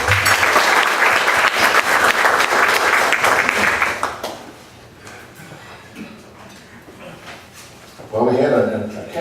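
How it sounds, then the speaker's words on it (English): Applause from attendees at a community meeting, loud and dense for about four seconds, then dropping to quiet room noise before a voice speaks near the end. "Well, a big round of applause for everybody."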